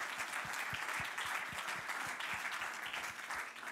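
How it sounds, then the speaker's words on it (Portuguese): An audience at a talk on social entrepreneurship claps for the event organizers, sustained mid-level applause from a roomful of people with a few distinct nearer claps standing out. "começo a pedir-vos que me acompanhem na salva de palmas à organização"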